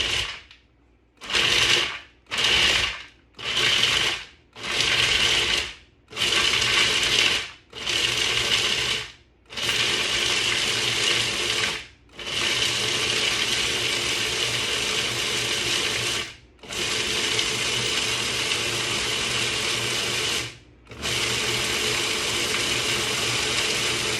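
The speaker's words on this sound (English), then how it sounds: "We're going to pulse ingredients to combine well and process on high speed until the mixture starts to stick together." A food processor pulses and then runs on high speed through cashews, apricots, dates and coconut, with several short bursts before longer continuous whirring stretches, loud and close with no speech.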